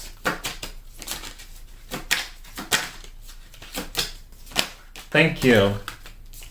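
Tarot cards being drawn and shuffled in a series of quick papery flicks and slaps, with irregular rhythm and close by, while a voice speaks briefly.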